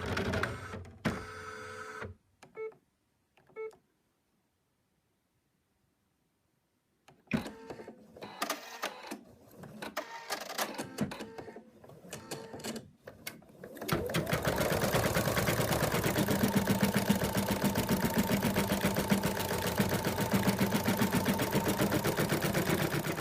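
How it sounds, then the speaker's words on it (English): An embroidery machine stitches the outline of an applique design, first in rapid start-stop bursts broken by short pauses and a silent gap, then in a steady, continuous mechanical whir for the last several seconds. "The machine stitched out the outline of the body"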